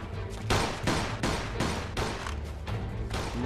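Rapid bursts of gunfire in a Mafia 2 shootout, a fusillade of loud, close shots in quick clusters that keep coming with only brief gaps.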